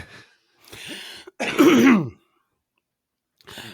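A few short, harsh coughs and throat-clearing bursts, close up, separated by brief silences, with one longer rasping, voiced cough in the middle.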